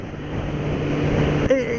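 A Suzuki GSX650F 650 cc motorbike accelerating: a steady engine drone with a low whine and wind rush, then a sudden change in pitch near the end as it shifts, with no clear talk.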